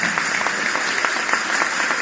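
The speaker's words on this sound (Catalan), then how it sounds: "Un fort aplaudiment per elles" Steady applause from an audience at a Women's Day event in Parets del Vallès honouring the teachers, dense and sustained clapping that carries on evenly from start to finish with no voices over it.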